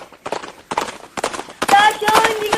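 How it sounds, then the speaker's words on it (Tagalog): Radio drama sound effect of horse hooves clip-clopping in four loud, evenly spaced clusters, close up, with a voice speaking over the final stretch. "Kunin ko na lang yung kabayo ni Kuya Berting."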